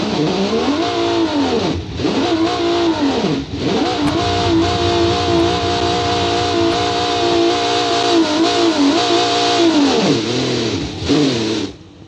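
A 545 hp inline-six rear-wheel-drive truck engine in BeamNG revs hard and repeatedly, rising in pitch and dropping at each shift, loud and close, with no talking.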